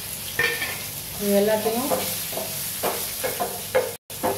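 Raisins, curry leaves, green chilli and ginger fry in hot oil as a tempering for curd semiya, crackling and sizzling up close while a spoon stirs and scrapes the pan, with a short spoken phrase.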